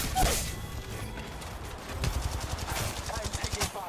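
Rapid automatic gunfire bursts in the mobile shooter game Apex Legends Mobile, sharp clattering rounds coming in quick volleys, especially in the second half, with game sounds mixed behind them.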